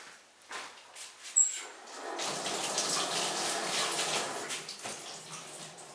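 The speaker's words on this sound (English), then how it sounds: "let me just wash my hands a sec." Tap water runs into a sink as hands are washed in a pottery studio, beginning after a few faint knocks and continuing as a steady close splash for several seconds, no talking.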